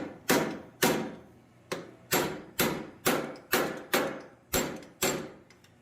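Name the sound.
hammer tapping forged steel butterfly wings in a vise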